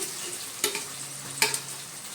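Steady sizzling of hot oil with two sharp bursts as spices hit the pan after onions are fried, plus light scraping of a utensil; no talking.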